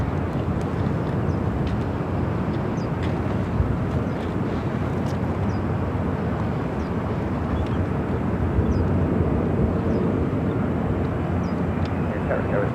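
United airliner taking off from runway 25 right at Phoenix airport, a loud continuous broadband engine roar filling the whole stretch, with faint radio-like clicks over it.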